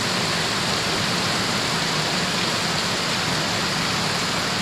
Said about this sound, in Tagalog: Oh, ang lakas ng ulan.